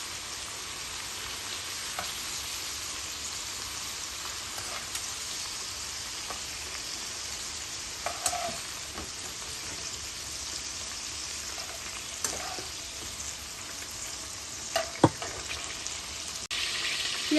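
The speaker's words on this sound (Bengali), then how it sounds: "অলমোস্ট আমার পেঁয়াজ বেরেস্তাগুলো রেডি হয়ে যায়, আর একটু সময় ফ্রাই হইব" Onions frying in a batch of oil to make beresta for king prawns bhuna, a steady low sizzle punctuated by a few sharp clicks and scrapes, with no talking.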